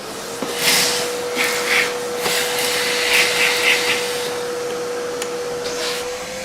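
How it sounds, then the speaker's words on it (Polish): A vacuum cleaner runs steadily while cleaning dust out of a Saeco PicoBaristo coffee machine opened for repair, a constant whine with a few brief bumps and rubbing noises from the nozzle, close by. "Tylko najpierw muszę go odkurzyć."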